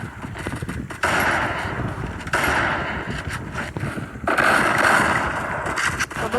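Gunfire in the mobile shooter Free Fire, played in training mode: dense, loud bursts of rapid shots that roar in and cut off, with fresh volleys starting about every second or two.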